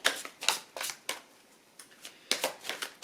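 Tarot cards being shuffled by hand, a series of crisp riffling bursts and slaps in an uneven rhythm, close and fairly loud with short quiet gaps between.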